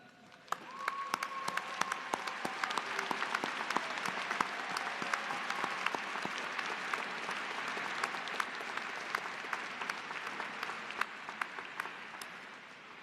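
At a university fall commencement ceremony, a large audience breaks into sustained applause that rises quickly and holds at an even, full level for over ten seconds, with faint tones and murmurs beneath.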